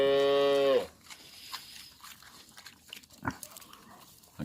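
A single loud, drawn-out cow moo opens on a farm with pigs and chickens, then fades into quiet farmyard rustling and a few faint distant sounds.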